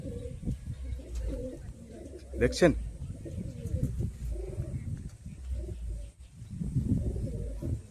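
Pigeons, including paired Fulshira birds, coo softly in a loft, with repeated low throaty calls and occasional wing flutters close by, while someone talks over them.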